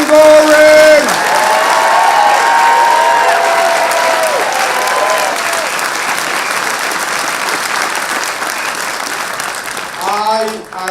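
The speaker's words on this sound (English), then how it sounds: "Let's give a big round of applause to the man of the hour, Senator Jim Gaughran." A crowd at a state senate swearing-in ceremony bursts into loud, sustained applause for a newly sworn state senator, with whoops and cheers rising above the clapping and voices in the mix toward the end.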